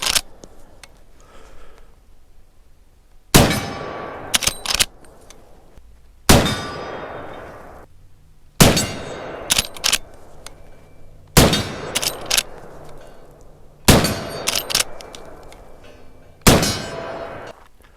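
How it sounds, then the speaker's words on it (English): 300-grain hollow-point 45-70 rounds from a Henry All Weather lever-action rifle strike a steel target. Seven loud metallic clangs arrive a few seconds apart, each ringing briefly before fading. "there was 20 rounds of our Defender ammunition Pro Hunter 300 grain hollow point through the Henry 4570 all-weather"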